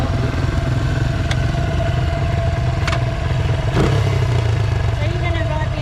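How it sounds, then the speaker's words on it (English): A motorbike engine runs steadily nearby, a constant mid-pitched drone with occasional clatter, while people talk over it. "Motorbike, I love it."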